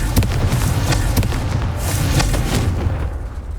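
A fiery Confringo spell explodes in Hogwarts Legacy on PS5, a series of loud, close booms and crackling blasts with a rumbling low tail between the hits.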